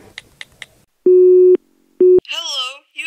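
Two steady telephone call tones sound loud and alone, a long beep then a short one, after a few faint clicks; a child-like voice speaks right afterward.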